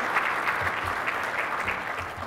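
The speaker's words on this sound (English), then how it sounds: "we should give this group a round of applause" Steady applause from a crowd, continuous clapping at even loudness throughout with no voices standing out.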